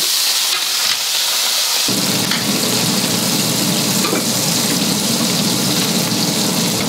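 Bristling sardines with skin and bones fry in oil in a pan, a loud, dense sizzle that jumps in intensity after a brief quieter start, with steady crackling splatter close by.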